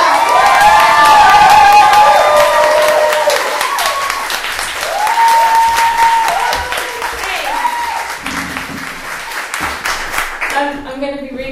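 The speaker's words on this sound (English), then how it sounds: "I'm going to ask the crowd to put their hands together and give a very warm welcome to Caitlin Hayward." A live audience welcoming a performer onstage breaks into sustained applause with cheering and some whoops, loud at first and gradually thinning out over about eleven seconds.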